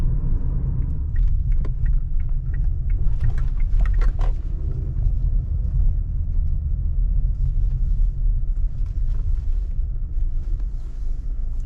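A Kia Sorento on the road, heard from inside as a steady low engine and road rumble with wind buffeting, a few faint knocks early on, no talking.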